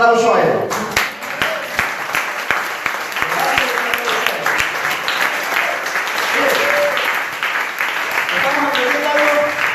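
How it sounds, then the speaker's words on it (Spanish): A church congregation breaking into applause, dense clapping that starts sharply and carries on steadily, with voices calling and talking underneath. "levántele un aplauso a él."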